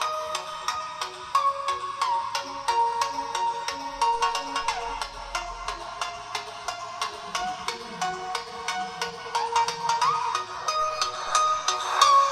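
A melodic electronic ringtone plays steadily through the bottom speaker of a Gionee S11 Lite phone, its repeating tones bright and fairly loud, with no talking.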